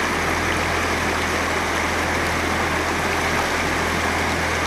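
Clear stream water flows steadily at a fishing spot in Paku Jati village, Paguyangan, a constant close rushing wash with no voices over it.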